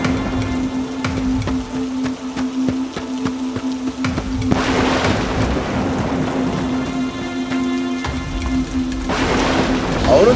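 Heavy rain pours steadily in an animated scene, with dense drumming on surfaces and rolling thunder swelling twice, loud and continuous with no talk.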